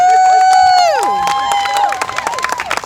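A crowd at an outdoor rally cheers with loud, high whooping voices, then scattered clapping breaks out and grows more uneven toward the end.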